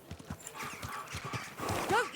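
Hooves clip-clop on ground and a horse gives a rising neigh in the medieval video game Kingdom Come: Deliverance II, close and fairly quiet, with a voice speaking over the steps.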